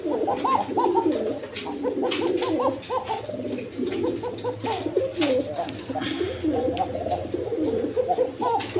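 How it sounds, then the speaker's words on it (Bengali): Several Dauga-breed pigeons coo steadily from close range at a farm, their overlapping throaty calls forming a continuous rolling murmur with no pause. "এইখানে এক পেয়ার ডাউগা কবুতর আছে দেখেন একদম কোয়ালিটি সম্পন্ন কবুতর"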